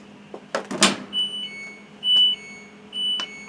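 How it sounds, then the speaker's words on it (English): Several electronic beeps from a clothes dryer buzzer during a door switch check sound in a spaced sequence, each a steady tone of varying length, after a few clicks and a knock at the start. "the lamp is on, buzzer beeps 7 times"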